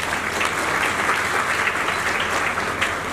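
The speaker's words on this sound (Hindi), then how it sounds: "इसके लिए एक बार जोरदार तालियां बजाएं" Loud, sustained audience applause at an award ceremony, a thick continuous roar of many hands clapping from start to finish with no voices on top.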